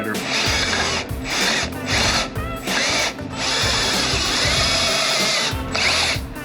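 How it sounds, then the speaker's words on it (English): A power drill whines in several short bursts while drilling through motorcycle parts during a riser install, stopping and starting with brief pauses, close and fairly loud. "You can just drill it through."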